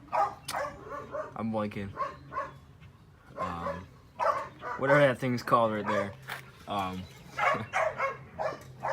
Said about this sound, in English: Excuse me for the dogs,